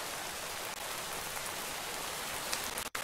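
Steady rain falls in a Minecraft world, a dense, even hiss throughout with a brief dip near the end.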